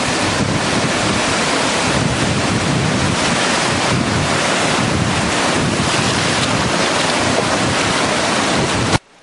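Rough ocean surf at Panama City Beach, Florida, with loud, continuous waves crashing and heavy wind buffeting from a close microphone standing in the water, cutting off abruptly at the end.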